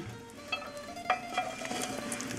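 Salt pork browning in its rendered grease in a pan gives a low, steady sizzle, with a few faint utensil clinks and scrapes scattered through.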